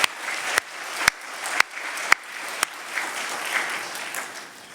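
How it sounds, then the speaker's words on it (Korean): Church congregation applauding during a year-end service, a moderate wash of clapping with several sharp, louder claps punctuating it at roughly half-second intervals, heard without talk. "우리 자녀 세대 위해서도 박수로 한번 격려하십시다."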